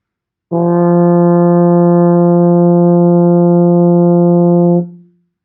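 A single sustained F played on a baritone horn with no valves pressed, steady and full for about four seconds, then cut off cleanly with a brief fade.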